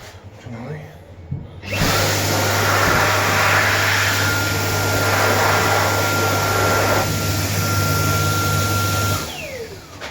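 A restroom hand dryer starts after a quiet moment and runs as a loud, steady roaring whoosh with a humming motor tone for about seven seconds, then cuts off.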